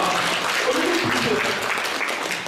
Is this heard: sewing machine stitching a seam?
no